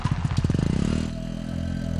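A motorcycle pulls up at night, its engine chugging in a quick rhythmic putter that slows and fades into a low idle hum, fairly close and alone.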